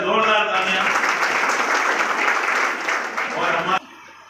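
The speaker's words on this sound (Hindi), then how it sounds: "उनके लिए जोरदार तालियां।" Audience at a village panchayat program claps for the local sarpanch, a dense burst of applause that fades slightly before cutting off abruptly near the end.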